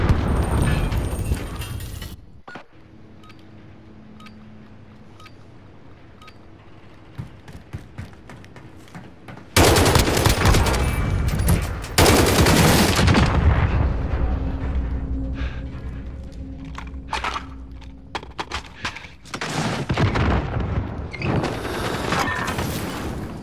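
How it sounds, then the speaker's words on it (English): Loud rocket blasts and gunfire in a combat video game, heavy booming explosions erupting in long rumbling bursts separated by quieter lulls. "Eat my rocket, baby."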